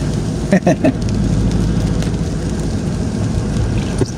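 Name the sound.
rain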